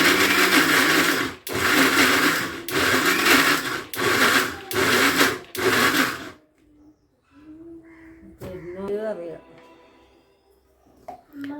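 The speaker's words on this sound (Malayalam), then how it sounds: "ഇതിലേക്ക് ഒരു അര ഗ്ലാസ് വെള്ളം കൂടി ഒഴിച്ചിട്ട് നന്നായിട്ട് ബ്ലെൻഡ് ചെയ്തെടുക്കുക." Blender grinding coconut, yeast and rice batter with water. The motor whirs loudly in six rapid pulses with short breaks between them, then stops, leaving quiet kitchen sounds and speech.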